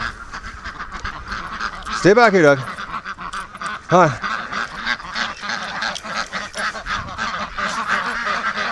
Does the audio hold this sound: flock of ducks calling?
yes